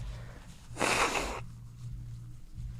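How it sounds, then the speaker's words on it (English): A person blows their nose once in a short, loud burst of about half a second, set against a quiet room with a low hum. "sorry about blowing my nose and everything"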